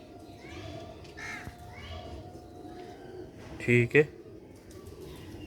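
Sialkoti silver rooftop pigeons give a short burst of loud, close cooing calls midway, while people talk over steady background noise.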